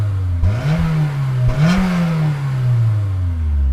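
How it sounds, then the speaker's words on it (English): A Honda S2000 engine revs up twice in quick succession while stationary, rising and falling in pitch, then settles into a steady, loud idle rumble. "I'm going to rev up my Honda S2000."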